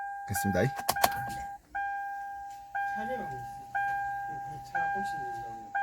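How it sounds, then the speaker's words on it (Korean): A car's ignition key clicks on at the start, then a repeated electronic warning chime sounds five times at steady one-second intervals, each tone decaying, with faint background noise; the vehicle is an LPG car with a faulty fuel gauge. "자, 다시 키를 온 해보겠습니다."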